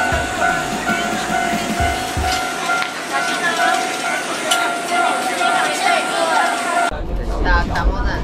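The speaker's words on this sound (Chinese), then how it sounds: "准备登上这辆充满乡间风情的小火车" A rural Wakayama Electric Railway train running, a steady rolling hum with a high whine and rattling carriage noise, close and continuous, ending with a louder low rumble.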